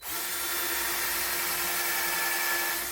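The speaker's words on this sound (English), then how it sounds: "drill in just a little bit straight, just a little more maybe" A power drill whines steadily and continuously at close range, its high-pitched motor grinding at an angle into hardwood without pause.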